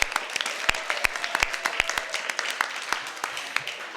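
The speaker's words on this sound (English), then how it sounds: "Give them a big round of applause." Sustained applause at an awards reception for a swim meet team, with dense, steady clapping from a sizable crowd and a few sharper, louder claps standing out close by throughout.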